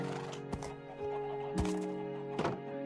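Horse neigh in the game Minecraft, a few brief whinny-like calls over steady loud background music with clattering thumps, moderately close.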